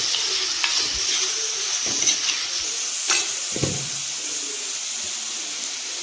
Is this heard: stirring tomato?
yes